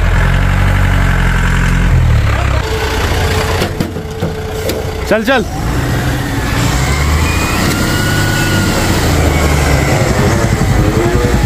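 Idling diesel truck engine, steady low rumble running throughout, with people calling out and talking nearby over it.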